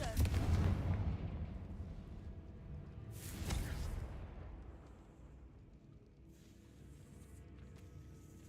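A Confringo fire spell explodes in the Hogwarts Legacy video game, a loud booming blast up close, followed by a second thump and a fading rumble.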